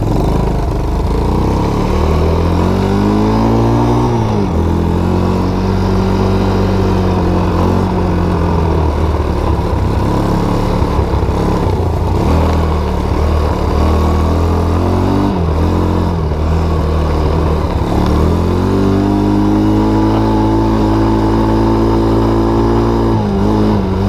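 A Baja Wilderness 90 minibike engine with a suspected faulty carburetor runs roughly and loudly, its pitch rising and falling through repeated revs and dips over a steady mechanical drone, with no talking.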